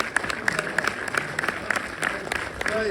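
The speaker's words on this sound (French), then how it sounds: "On peut les applaudir bien fort, s'il vous plaît." A cinema audience at a film premiere applauds the theatre director and staff with steady clapping heard up close, while an amplified voice talks over it.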